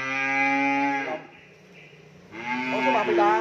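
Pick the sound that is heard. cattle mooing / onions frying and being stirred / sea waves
cattle mooing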